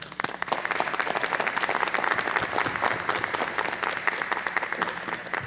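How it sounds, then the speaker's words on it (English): Audience applause at a school board meeting honoring staff: dense, steady clapping from a sizable crowd in an indoor hall, sustained for several seconds. "So let's give them all a round of applause to start."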